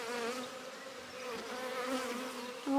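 Honeybees buzz during a hive inspection with brood present, a steady, faint, close drone of many wings with no talk over it.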